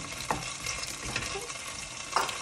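Onions frying in hot fat for beef stew, a dense continuous sizzle with occasional clacks of a utensil stirring them, close and without speech.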